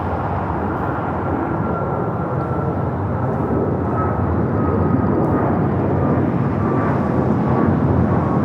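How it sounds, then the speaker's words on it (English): An American Airlines Boeing 737 MAX 8 bound for Mexico City takes off from LAX with a loud, steady jet roar that slowly builds in power, heard alone with no talk. "This takeoff is American Airlines 2546 taking off to Mexico City on the MAX 8"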